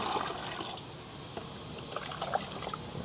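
Water pours into a container as it is refilled for use as garden fertilizer, a soft continuous trickle and splash at low volume with small drips and bubbles rising through it.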